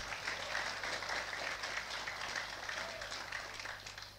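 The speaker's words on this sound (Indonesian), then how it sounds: "Tepuk tangan dulu buat kita semua" Applause from an audience at a rally of ulama, a steady wash of clapping held at an even level for about four seconds before tapering off.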